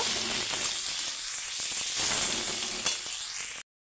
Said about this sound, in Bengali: হলুদ গুঁড়ো দিয়ে দিলাম, ধনিয়া গুঁড়ো দিয়ে দিলাম। এটাকে ভালো করে নেড়ে চেড়ে ভেজে নেব।